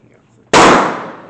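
A single loud gunshot at a gun range, a sharp sudden crack that rings out and decays over about a second after quiet background.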